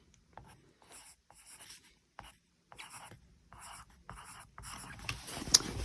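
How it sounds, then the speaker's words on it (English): Pen writing an end date in a sketchbook: close, quiet scratching strokes in short bursts with brief pauses, with faint rustling toward the end. "Oh, I forgot to write the end date."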